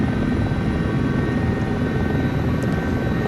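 A Sikorsky helicopter in the X-Plane 12 flight simulator holds a steady, loud rotor and turbine drone, even and unbroken throughout.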